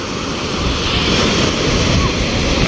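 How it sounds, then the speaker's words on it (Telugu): Ocean waves of the Bay of Bengal rolling onto a beach, a loud continuous roar of surf with wind buffeting the microphone. "అలలు పర్లేదు బాగానే వస్తున్నాయి"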